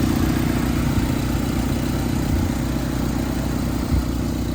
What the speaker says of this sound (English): Sweet sounding engine.